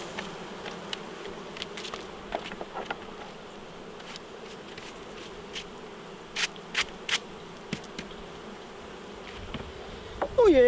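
Honeybees hum steadily while a colony is moved from one hive box to another, a dense continuous buzz broken by frequent light knocks and scrapes of the wooden box.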